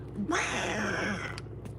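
A single drawn-out, strained cat yowl rises and fades, fairly loud against a low background hum.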